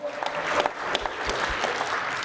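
A crowd applauds steadily, a dense wash of clapping with a few sharper individual claps standing out.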